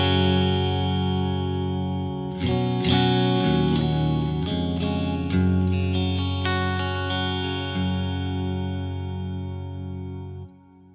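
Electric guitar played through the clean channel of a Marshall JVM410H amp with added reverb and delay, sustained chords and single notes ringing out loudly and decaying at the end.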